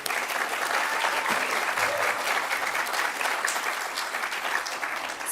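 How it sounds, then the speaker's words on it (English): Audience applause closing an Australia-Indonesia language awards ceremony, steady, even clapping from a room full of people, sustained for several seconds at moderate loudness. "Can we have a huge round of applause?"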